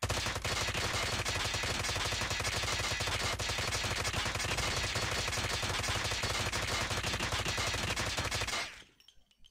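A Holger 26 converted into an SMG with a 100-round magazine fires full auto in a video game, a loud unbroken rapid stream of shots lasting several seconds before cutting off abruptly into quiet.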